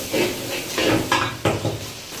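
Tamarind ginger curry being stirred in a pan, with a few scraping and clinking strokes of a utensil against the metal over a light background sizzle, close and fairly loud.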